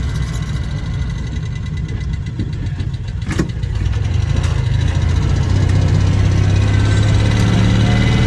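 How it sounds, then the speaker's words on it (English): An original Citroën 2CV's small engine droning steadily and loudly from inside the car as it rolls over a speed hump, with one brief thump partway through and a slight rise in engine note afterward. "Speed humps here. I'm going to deliberately drive over one."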